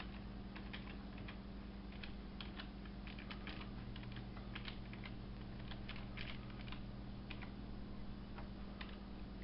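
Soft, irregular keystrokes on a computer keyboard tap along in quick bursts over a steady low electrical hum. The sound is quiet and close, with no voices.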